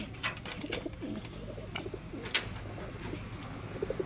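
Breeder pigeons cooing nearby in soft, repeated low calls, with a few sharper chirps and faint background noise and no talking.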